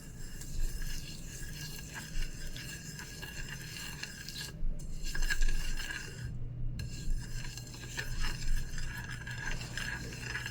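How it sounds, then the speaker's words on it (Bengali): Paneer mixed with salt and spices in a bowl, heard as steady close rubbing and scraping with small clinks, continuing without pause. "এবারে এটাকে ভালো করে মিশিয়ে নিতে হবে।"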